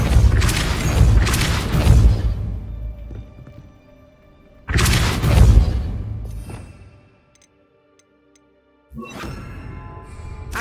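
Depulso spells cast in Hogwarts Legacy: two loud booming blasts close together, a pause with faint ringing, another heavy boom, then near silence and a final softer burst.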